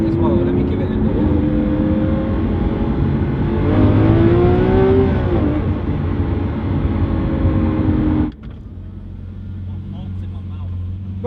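Lamborghini Aventador SV engine revs and pulls hard in a loud, rising and falling roar heard from inside the car, then drops off sharply to a lower idle-like rumble near the end, with people talking over it.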